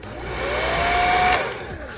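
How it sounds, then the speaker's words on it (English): A household blow dryer on its high setting gives a steady, loud whooshing roar with a motor whine, holding constant for about two seconds with no talking. "We're just gonna put it on high,"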